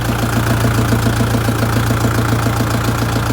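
A Lovol 354 tractor engine runs steadily up close while planting cabbage with a transplanter, a loud, even diesel chugging with a regular low throb and no other sounds.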